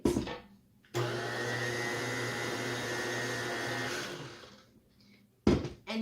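Electric mixer giving cake batter for cake pops a final blend, a steady whirring hum running about three seconds alone before switching off.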